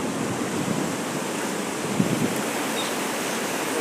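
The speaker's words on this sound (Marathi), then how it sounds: "पाणी कसं उसळ्या मारीत आहे एकदम" Floodwater surges over a river weir near a new bridge and temple, a loud steady roaring rush of churning water mixed with wind buffeting the microphone, no talk.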